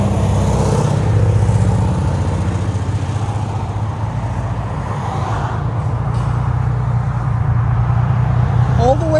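A 2012 Infiniti G37 with a 3.7L V6, running HK5 mufflers and a resonator delete, burbles with a steady low exhaust rumble throughout, and voices talk over it.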